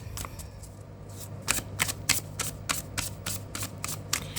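A deck of tarot cards is shuffled by hand in a quick series of crisp riffling bursts, about a dozen rhythmic flicks up close, with no speech.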